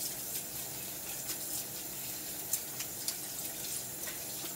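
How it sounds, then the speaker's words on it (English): Tap water runs steadily into a kitchen sink while a spatula is rinsed, a soft, even hiss with a few small splashes, fairly quiet throughout. "Just wash this spatula out in case I need it."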